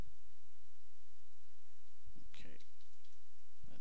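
A computer keyboard typing a terminal command on a Linux desktop: a few soft, close key clicks under a steady background hum, with a brief burst of other noise near the end.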